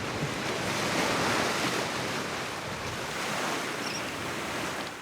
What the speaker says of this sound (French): il y aura des vagues et de l'eau agitée